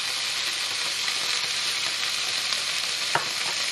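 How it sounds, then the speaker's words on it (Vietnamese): Bamboo shoots stir-fried in a pan with browned shallots for a vegan noodle dish, giving a steady close sizzle with faint scraping stirs and one sharp clack near the end, no talking. "mình cho măng vô xào"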